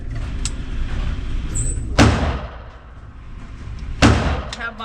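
Two sharp, loud Glock 34 Gen5 pistol shots fired outdoors at a range, spaced about two seconds apart, each with a brief echoing tail over low background noise.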